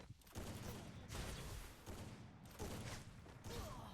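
Repeated bursts of gunfire in a shooter video game, several loud volleys arriving about once a second in a steady rhythm with short gaps between them, dense and close.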